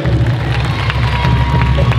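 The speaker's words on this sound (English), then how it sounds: "Nice round of applause for these lovely young ladies" A loud crowd cheers and claps for young solo dancers at a Heiva San Diego Tahitian dance competition, a dense, continuous roar of applause and shouting with a heavy low rumble underneath.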